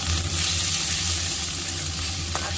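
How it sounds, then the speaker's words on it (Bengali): Washed chopped onion and garlic sizzle in hot oil as a tempering, a steady close crackling hiss with faint stirring. "ফোড়নটা আমি দিয়ে দিচ্ছি পেঁয়াজ কুচো।"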